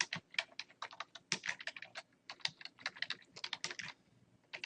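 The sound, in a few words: typing on a computer keyboard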